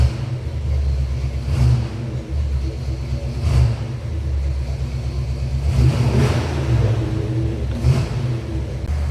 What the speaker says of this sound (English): You can see me hit the gas here and it's not falling on its face.